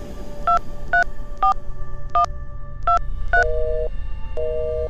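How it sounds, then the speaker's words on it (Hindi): A landline telephone is dialed in a horror audio drama, heard as a series of clean electronic keypad tones, about seven short beeps followed by a couple of longer ones, loud and alone. "लैंडलाइन से मिंटू को फोन लगाने लगे।"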